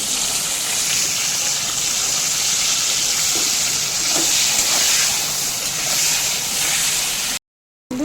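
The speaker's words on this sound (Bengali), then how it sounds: "বেগুনগুলো খুব ভালো মতো লাল লাল করে ভেজে নিচ্ছি" Eggplant pieces frying in hot oil, a steady close hissing sizzle that runs unbroken for several seconds before cutting out.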